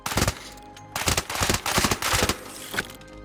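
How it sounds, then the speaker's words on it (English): Rapid bursts of automatic gunfire from hip-firing a Bobcat in Arc Raiders, loud close volleys broken by short pauses, no talking. "I can land all my shots with the Bobcat without missing hip firing from here"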